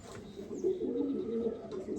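Baby pigeons from a 2025 batch coo steadily close at hand, a low warbling murmur with a brief faint chirp, and nobody speaks.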